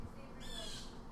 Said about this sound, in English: That's the blue jay giving me hell